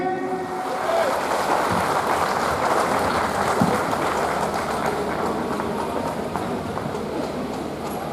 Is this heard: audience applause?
yes